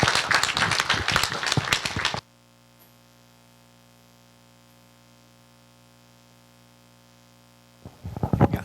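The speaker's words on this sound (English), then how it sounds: "let's give a round of applause to all of our winners" Camera club members applauding competition winners at a general meeting, a couple of seconds of clapping that cuts off into near silence with faint hum, then clapping briefly resumes at the end.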